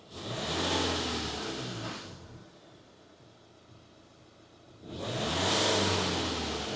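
A Nissan diesel engine revved twice, each a loud rising-and-falling roar of about two seconds, with a quieter idle hum between them, heard up close with no talking.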